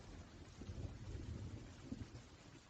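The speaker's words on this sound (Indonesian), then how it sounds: "Hujan." Rain and thunder roll together as a low, steady rumble with soft noisy hiss on top, fairly faint and continuous with no voices.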